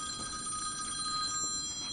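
An incoming call rings on a mobile phone beside a 1974 Williams Starpool pinball machine under repair, a steady bright electronic ringtone that is close and fairly loud and fills the whole moment without speech.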